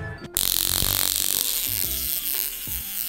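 A sharp electric crackling buzz from a stun gun starts suddenly and keeps rattling rapidly, fading slightly as it goes on.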